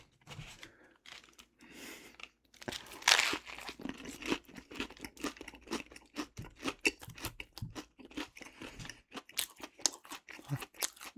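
Crisp, close crunching and chewing from bites of a Lay's Stax potato crisp sandwich made with butter, a dense irregular run of sharp crackles and munches over several seconds with no talking.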